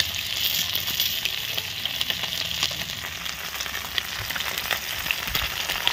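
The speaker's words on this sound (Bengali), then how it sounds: "মশলা বাটা হলে এদিকে মাছগুলো ভাজা হয়ে গেছে।" Fish, likely foluí, frying in hot oil in a pan, giving a steady, dense sizzle with scattered crackles and pops throughout, close and fairly loud, with no voices.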